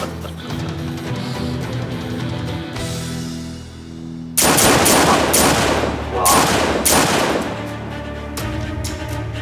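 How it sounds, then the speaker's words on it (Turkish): Gunfire in a dramatic scene, a dense burst of several loud, sharp shots in quick succession following a tense stretch with music and talk, then fading out. "Sıktı lan babama."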